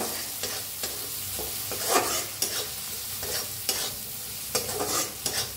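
Close pan frying of red chili masala with okra, a constant sizzle broken by repeated scraping strokes of a spoon stirring through the pan.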